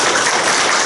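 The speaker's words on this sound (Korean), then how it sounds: "큰 박수 부탁드립니다" A burst of dense applause from a crowd at a memorial ceremony, steady and full throughout the brief moment.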